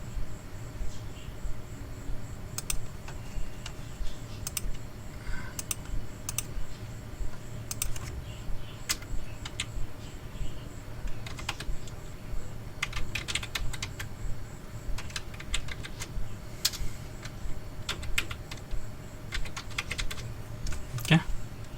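Typing a folder name on a computer keyboard, a steady scatter of light key clicks over a constant background hum, with a faint chirping like a cricket or insect.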